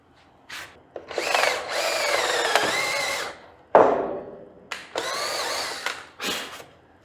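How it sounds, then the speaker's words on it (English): A battery power drill, its battery nearly dead, whines in several bursts, revving up and biting into wood trailer decking, with short pauses between runs and one sharp clunk midway. "So we got to drill a hole and then drive it in there."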